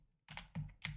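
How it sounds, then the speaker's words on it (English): Loud, close clacking of a mechanical keyboard with green switches: a short burst of several sharp key strikes after a brief quiet start. "You can hear the clack clack keyboard."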